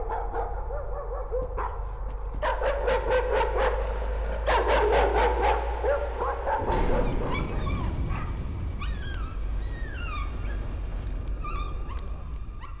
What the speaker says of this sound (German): Höre ich einen Hund bellen?